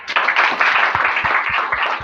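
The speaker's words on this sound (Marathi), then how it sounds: "त्यांच्यासाठी खरंच टाळ्या वाजवा" An audience claps in steady applause at a public skills-development gathering, a dense patter of many hands that holds fairly loud for the whole stretch with no voices over it.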